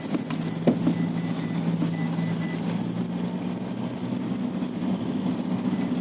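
A Mitsubishi 4D56 2.5-litre diesel pickup engine idles with a steady low rumble, constant and fairly close, with no other sounds standing out.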